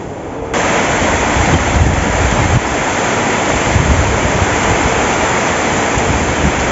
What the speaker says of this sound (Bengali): আজকাল মেঘটা আরম্ভ করছে, জল পড়ছে